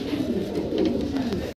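Rajshahi Giribaz pigeons cooing steadily and close by, their low throaty coos blending into a continuous warble that lasts throughout without a break.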